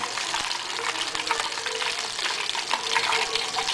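Corndogs deep-frying in hot oil, a steady dense crackling sizzle that holds even and fairly loud throughout with small bursts of popping, no voices.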